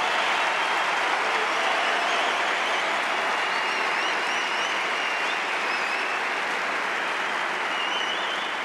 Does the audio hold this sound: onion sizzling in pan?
no